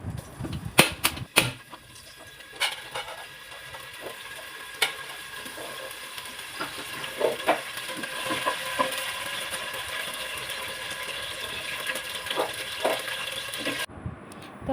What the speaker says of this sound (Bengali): আমি আলুগুলো একটু ভেজে নেব